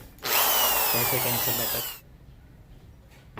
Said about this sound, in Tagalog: dapat yung hammer drill, hammer function niya.